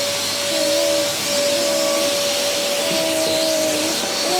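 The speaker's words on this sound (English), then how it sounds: "So we'll Hoover every single room, all the corners, like the middle of the floor." A Hoover vacuum cleaner runs steadily and loudly indoors, a continuous close whine with airy hiss and a sustained tone, unbroken for the whole stretch with no talking.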